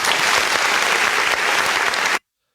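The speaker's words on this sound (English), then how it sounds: "I think that deserves a round of applause first." An audience at a live show gives a loud, dense round of applause that holds steady for about two seconds, then cuts off abruptly into silence.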